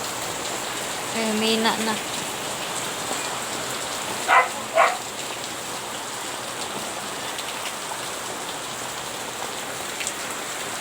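Steady rain patters on a surface throughout, with a brief murmur of voices and a short distant bark partway through.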